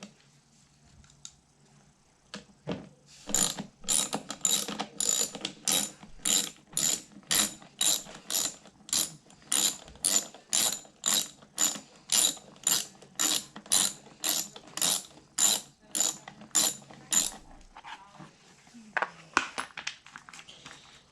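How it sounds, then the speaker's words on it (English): An 8mm ratchet works loose the air filter cover on a Briggs and Stratton carburetor, giving a long run of about two dozen evenly spaced, crisp clicks close up, with a few faint handling noises before and after. "you take an 8mm and you take off the air filter cover"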